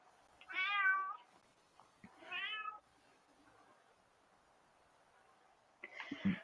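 A domestic cat meows twice in quick succession, fairly close and clear in a quiet room, followed by a brief rustling or sneeze-like burst near the end.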